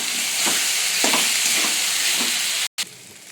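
Cumin and coriander powder sautéing in a hot pan give a steady bright sizzle with a few soft stirring scrapes, broken by a brief total cutout near the end.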